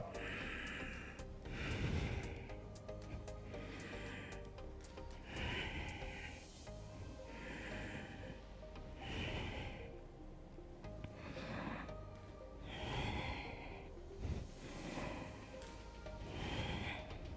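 Rhythmic, heavy breaths during a strong core exercise workout, forceful exhales and sharp inhales repeating about every two seconds, close and fairly quiet.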